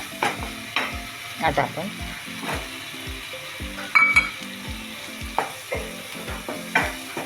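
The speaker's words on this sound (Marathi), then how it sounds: "आला लसणाचा पेस्ट टाकला." Ginger garlic paste sizzles and fries in a pan for prawn biryani while a spoon stirs with regular scraping strokes and light clinks; a voice speaks briefly over the cooking.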